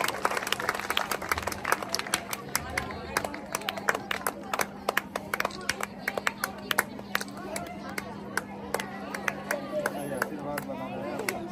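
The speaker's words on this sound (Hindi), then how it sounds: "एक बार और तालियों से स्वागत करें।" Scattered, distinct hand claps come from an audience welcoming guests at a Republic Day event at a school. The claps are fairly quiet and uneven, with a steady electrical hum underneath.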